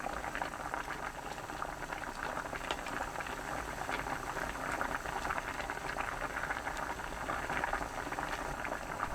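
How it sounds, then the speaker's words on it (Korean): Braised mackerel with radish and onion boils uncovered in a pot over high heat, a steady, close bubbling and hissing simmer running throughout. "센 불로 5분 끓입니다"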